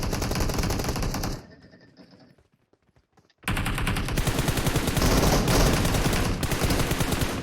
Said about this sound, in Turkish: Arkadan adam sıkıyor arkadan.